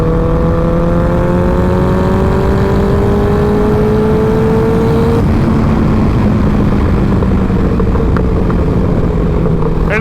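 Turbocharged Suzuki Bandit 1200 motorcycle pulling hard through the gears, its engine note climbing steadily in long rising sweeps, then dropping at a shift and rising again, loud and continuous with steady wind rush.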